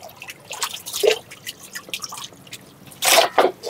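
Mutton rinsed in clean water, with irregular drips and small splashes falling into a vessel, then a louder double splash of water near the end, close and without voices.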